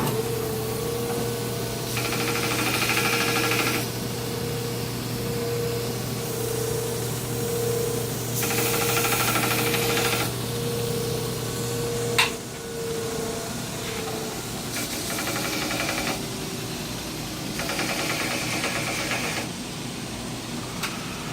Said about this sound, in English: So I'm just going to do that on the grinder.